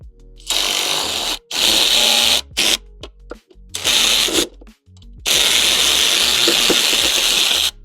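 Bolts are tightened on a Trinity Racing exhaust header fitted to a Polaris RZR Pro R, with loud bursts of a power tool, several short runs and then one longer run, separated by brief pauses.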